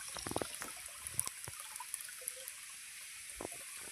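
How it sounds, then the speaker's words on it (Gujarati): Water trickles and drips from a spout at Garu Kevaliya Mahadev temple, a faint, close patter of small splashes over a quiet, steady background. "આ પાણી નીકળે છે"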